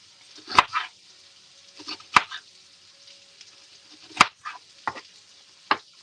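A knife chops onions on a cutting board: sharp, close cuts come in small irregular clusters with quiet pauses between them, and no one talks.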